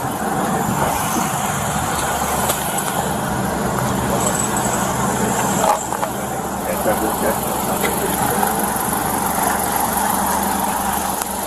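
A car engine running steadily as the vehicle is moved out of a residential driveway during a sheriff's traffic stop, a constant low hum throughout with people talking over it.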